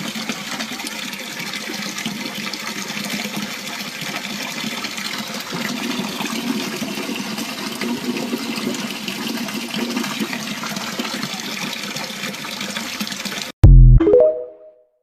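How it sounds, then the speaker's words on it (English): Steady running water gushing from a tap, discoloured red, a continuous broadband rush held at even loudness for about thirteen seconds before cutting off abruptly into a brief low thud. "Red water from the tap"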